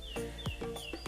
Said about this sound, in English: But you can hear the silence and the birds.